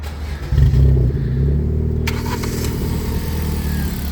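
A car engine cranks and catches, then settles into a loud, close, steady idle with a deep rumble, hooked up for a fuel injector oscilloscope diagnosis; a brief metallic rattle joins midway.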